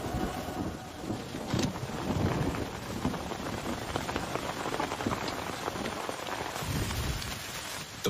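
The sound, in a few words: rain falling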